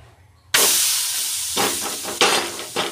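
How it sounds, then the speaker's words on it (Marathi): A methi paratha dropped onto a hot, lightly oiled tawa bursts into a loud, steady sizzle, with hissing surges swelling again twice as it settles and fries. "आता ह्याच्यावर पराठा टाकायचा आहे आपण."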